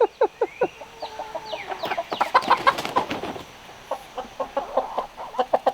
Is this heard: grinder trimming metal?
no